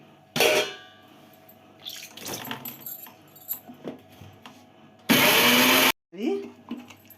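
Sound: mixer grinder grinding mango and moong dal chutney

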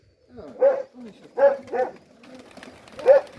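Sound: pigeons cooing

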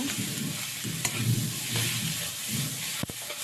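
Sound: spices and potatoes frying in a wok

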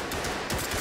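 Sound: gunshot through a window in video game Ready Or Not

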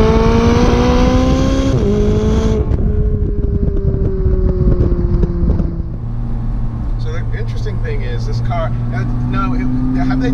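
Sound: McLaren sports car driving and accelerating

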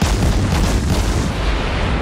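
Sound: cruiser St. Louis artillery volley in World of Warships video game

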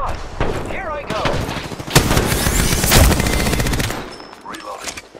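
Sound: gunfire in the video game Apex Legends

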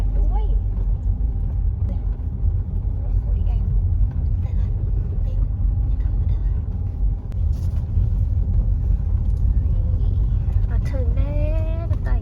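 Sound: car driving into campsite

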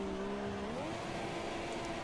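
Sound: car spinning out in the video game F1 2017

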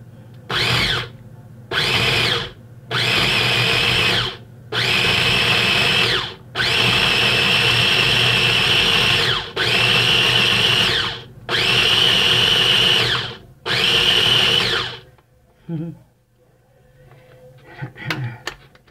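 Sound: Cuisinart food processor running

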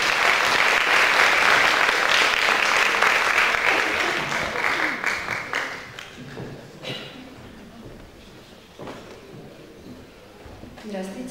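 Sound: audience applause at a concert

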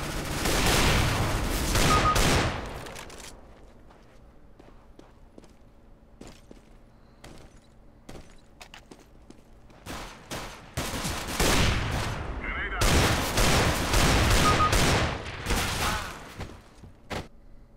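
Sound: gunfire in video game CS:GO

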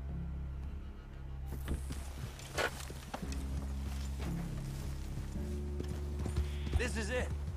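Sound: horse hoofbeats in video game Red Dead Redemption 2

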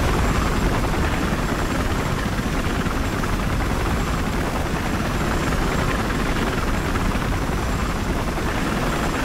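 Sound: attack helicopter taking off in video game Battlefield Hardline

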